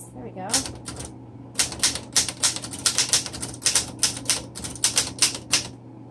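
A 1929 Royal 10 vintage typewriter is typed on up close, with a brisk run of sharp key strikes and clacks in an uneven rhythm after a brief pause at the start.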